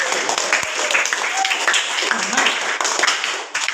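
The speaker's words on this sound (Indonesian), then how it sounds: "Tepuk tangan buat semuanya." A classroom of students claps together in brief applause, a short, fairly close burst of scattered hand claps.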